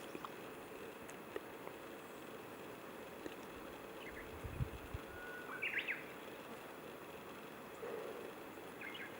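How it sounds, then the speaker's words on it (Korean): A few faint bird chirps and short calls rise over a steady outdoor hiss of insects on a mountain summit, sparse and distant. "새소리만 들리네."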